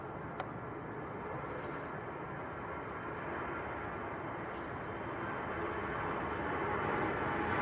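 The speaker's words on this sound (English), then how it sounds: "And it will be EasyJet to Amsterdam. An Airbus, a good old Airbus A320." EasyJet's 14-year-old Airbus A320 rumbles at Manchester Airport on a windy day, a broad steady engine roar that swells gradually with no one talking.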